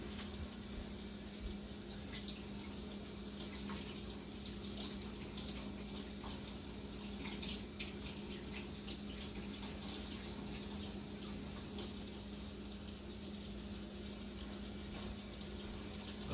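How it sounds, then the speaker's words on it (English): Tap water runs steadily over a knife in a kitchen, a constant faint hiss and hum lasting throughout without talk. "I'm going to just heat this knife up, run it under some water"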